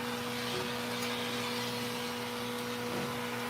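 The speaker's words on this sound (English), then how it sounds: "See if the vacuum will pull it out." A vacuum cleaner runs steadily with a constant drone and whine while a puppy's fur is trimmed, with faint clicks of clipping or handling over the continuous motor noise.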